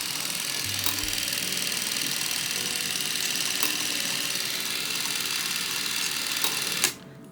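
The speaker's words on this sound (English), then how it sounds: "Definitely some clunking going on in there" A spring-wound motor runs steadily inside a Keystone A12 Criterion Deluxe 16mm camera, a close mechanical whir with a few faint clunks, ending in a sharp click and sudden stop.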